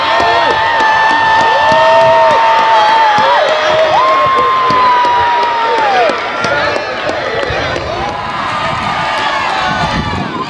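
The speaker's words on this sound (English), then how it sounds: "please give the class of 2022 a big old deserving round of applause" Graduation crowd at a Lee Central High School commencement cheering, whooping and applauding the class of 2022, a loud sustained roar of many voices and clapping with shouts rising over it throughout.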